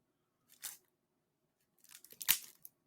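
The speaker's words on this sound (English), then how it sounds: "I'm really shredding this plastic." Plastic wrapping on board game cards is ripped open in two bursts: a short tear, a pause, then a longer crinkly shredding rip, close and alone.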